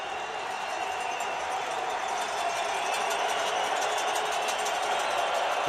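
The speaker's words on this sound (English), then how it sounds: "The crowd revving up the volume here." A football crowd at Montana's Grizzly Stadium during an FCS playoff game against Stephen F. Austin makes a steady, dense roar that holds loud and swells slightly across the span, with no clear voice on top.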